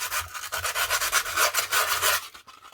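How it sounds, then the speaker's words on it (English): Sandpaper rubbing rust off a Makita HR5001C rotary hammer by hand, a rhythmic close scratchy rasp of quick back-and-forth strokes, alone without speech. "just with a bit of sandpaper."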